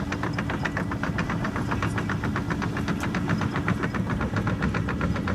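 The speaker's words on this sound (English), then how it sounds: "If you're wondering what you're hearing, it is a Volvo. Very typical engine sound of a Volvo." A Volvo vehicle's engine runs near the 18R arrivals runway at Schiphol Airport, a steady, clunky, rhythmic knocking drone that stays close and loud throughout, with no one speaking.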